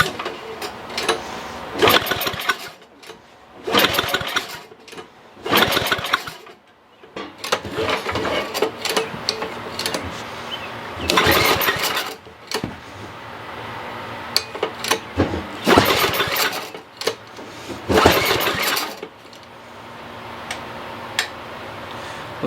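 An old Ariens rear-tine tiller engine being pull-started repeatedly, several loud bursts of recoil cranking separated by short pauses, close up, with the engine failing to catch.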